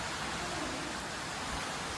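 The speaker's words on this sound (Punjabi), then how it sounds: "ਹੁਣ ਕਣੀਆਂ ਪੈਂਦੀਆਂ ਨੇ ਮੀਂਹ ਪੈਂਦਾ ਦੇਖੋ" Monsoon rain falling on a street, a steady, fairly quiet broadband hiss of rainfall throughout with no distinct individual drops and no voices.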